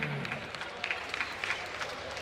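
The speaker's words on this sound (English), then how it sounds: "your applause for Mathum Gechandra Singh" Crowd applause for a fighter being introduced at a combat sports event; scattered, fairly faint clapping from a distant audience in a large venue, with a few sharper claps standing out.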